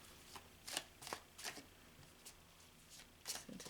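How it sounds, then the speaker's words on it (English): Tarot cards being shuffled and drawn during a reading, giving several short, crisp riffling bursts spaced through the clip, close and fairly quiet with no talking. "Let me see if I can get one more card."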